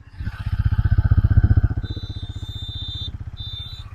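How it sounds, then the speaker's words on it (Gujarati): A Yamaha MT-15 motorcycle engine idling close by, a steady low rhythmic thumping that swells briefly then settles, with a high whine appearing later. "પહેલાં તો રેસ કર્યા વગર તમને ગાડીનો અવાજ સંભળાવી દઈશ"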